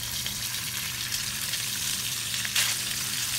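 Turkey sausages sizzle and crackle steadily in a hot pan, a constant close frying hiss with occasional sharper pops.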